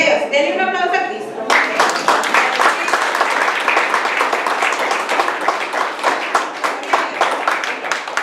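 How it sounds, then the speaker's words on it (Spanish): A church congregation at a Spanish-language Vida Nueva service bursts into loud, sustained applause with dense clapping and some cheering, following a brief spoken lead-in at the start. "Denle un aplauso a Cristo."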